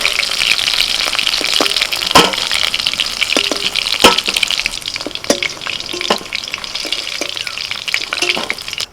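Loud sizzling of fish frying in hot oil in a wok, with spatters and clinks of a utensil stirring or turning it now and then; no talking.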